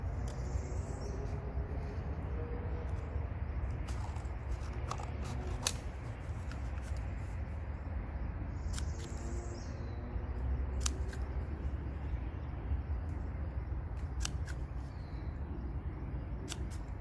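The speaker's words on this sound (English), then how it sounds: "You don't need to snip up too far, just a little bit on the bottom" Scissors snip into the bottom of a homemade paper seed pot in a series of short, sharp cuts, close and fairly quiet over a steady low background hum.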